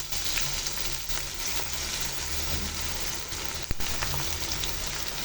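Spices with garlic, ginger and cumin pastes frying alongside browned onions for a chicken and chickpea lentil dish, a dense continuous sizzle and crackle throughout with one sharp knock near the end.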